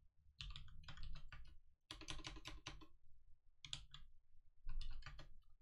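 Typing Python code on a computer keyboard: rapid, close clicking keystrokes in several bursts separated by short pauses, with no talking.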